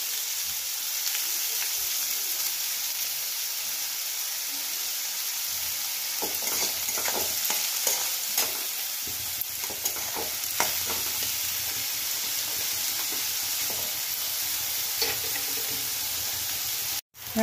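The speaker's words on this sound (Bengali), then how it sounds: "দেখো পেঁয়াজ ভাজা ভাজা হয়ে গেছে" Chopped onions with a little salt fry in a pan, making a loud, continuous sizzle with scraping and clinking as a spoon stirs them up close.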